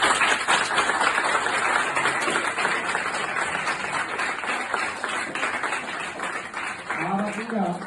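An audience at a Delta Junior College gathering claps in sustained, dense applause that gradually thins, and a voice starts speaking as it fades.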